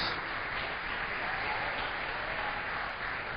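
Steady, dense applause from a large church congregation, sustained and even throughout without any talking.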